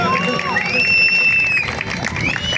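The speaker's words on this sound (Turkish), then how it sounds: "Efendim bir alkışlarım çiftlerimize." Crowd at a Turkish henna night celebration cheering and applauding the couple, a steady loud wash of claps and shouts with whistling tones over it and no talking.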